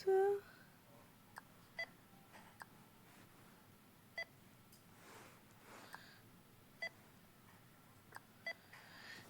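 Checkout barcode scanner at a French shop counter beeping as items are scanned, a series of short, sharp beeps spaced unevenly over quiet room noise, with faint talk in the background.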